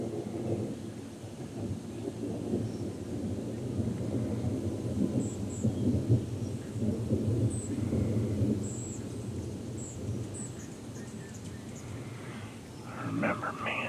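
A summer thunderstorm in Burbank brings long rolling thunder that swells and fades over steady rain, with a few faint bird chirps overhead and a brief sharper sound near the end.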